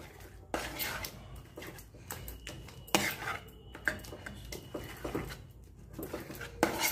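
A spoon mixes a ghee and sesame mixture in a metal pan over a low gas flame, giving irregular scraping and clanking, close and moderately loud, with a few sharper knocks against the pan.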